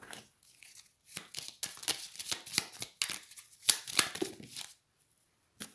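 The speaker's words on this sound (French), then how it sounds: "Alors là, trop de cartes sont tombées." Tarot cards are shuffled by hand in quick riffling bursts, close and fairly quiet, with a few cards slapping down as they fall before the shuffling stops.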